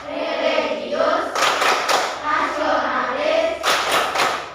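Rhythmic PPK clap routine in an Indonesian classroom: bursts of group hand clapping alternate with children chanting together, the claps landing in short clustered patterns between the spoken words.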